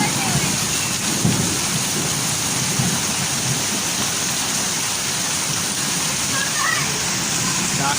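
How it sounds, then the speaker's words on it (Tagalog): Heavy rain pours steadily throughout, a dense broadband roar with low rumbling underneath and faint voices mixed in. "Lakas ng ulan."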